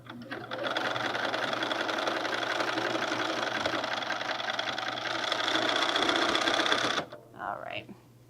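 A sewing machine stitches bag fabric along a chalk line in one long, steady, close run of rapid whirring and needle clatter, then stops as someone speaks briefly.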